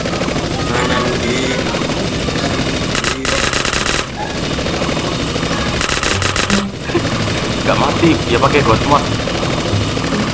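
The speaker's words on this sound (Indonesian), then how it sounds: "Helikopternya bunyi di sini." In GTA San Andreas Multiplayer, a helicopter drones loudly and continuously while bursts of rapid gunfire cut in twice, with players chatting over the noise.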